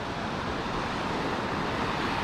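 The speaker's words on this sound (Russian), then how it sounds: "Моречко штормит." Stormy Black Sea surf rolls in at Dzhemete beach in Anapa, a steady, loud roar of breaking waves mixed with wind noise and no voices.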